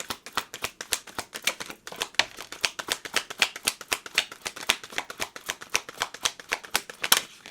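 Oracle cards shuffled by hand in a steady, rapid riffle of crisp paper flicks and slaps, close and fairly quiet, with no talking.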